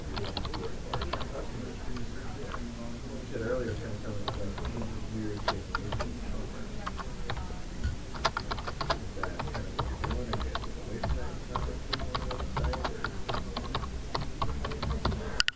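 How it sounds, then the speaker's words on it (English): Rapid typing on a computer keyboard while entering product catalog details, with irregular bursts of crisp key clicks and taps that continue throughout, close and fairly quiet, with faint background noise. "we'll hit enter on our keyboard"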